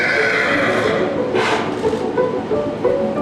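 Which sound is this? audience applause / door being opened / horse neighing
horse neighing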